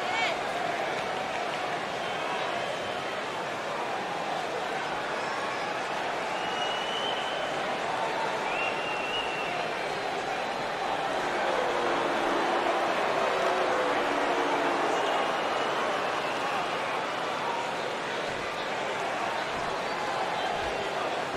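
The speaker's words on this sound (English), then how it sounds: "it sounds to me like this crowd already picked the one who they want to win this match" A wrestling arena crowd roars and cheers before a one-on-one main event match, a steady, dense wall of noise that stays loud and unbroken throughout.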